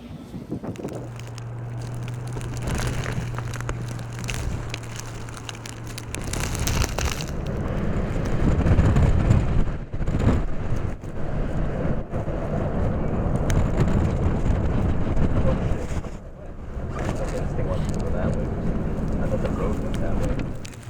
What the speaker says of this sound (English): On the morning of the 23rd, intense snow and wind were already ongoing pre-dawn